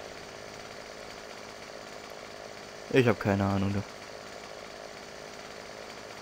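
A chainsaw cutting trees in the farming game Farming Simulator 15 roars in one brief burst of just under a second amid a quiet background, with someone speaking nearby.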